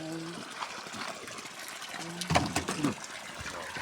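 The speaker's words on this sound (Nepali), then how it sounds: "हामी पानी भर्न आएको बाउ छोरी" Water being filled into a container at a water source in the early morning, with a steady running trickle and a short louder splashing burst toward the end.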